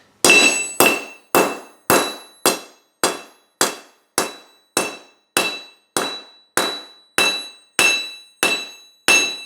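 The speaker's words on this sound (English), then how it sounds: "And so now we just hammer one of these out of that pipe." Hammer blows knocking a piece out of a metal pipe during an Olds 455 serpentine belt conversion: about sixteen sharp, ringing metallic strikes at an even pace, each decaying before the next, loud and close with no speech.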